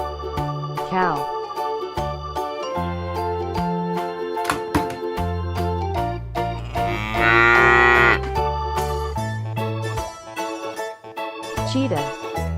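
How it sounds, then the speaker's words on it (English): A cartoon cow gives a long, loud moo at the center of a bright, tinkly children's tune, with the music carrying on around it. "Cow."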